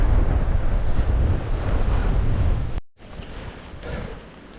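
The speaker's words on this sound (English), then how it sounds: "it's now blowing an actual gale" Strong gale wind buffets the microphone on a coastal walking path, a loud, continuous roar that drops out briefly before returning somewhat weaker, with no one talking.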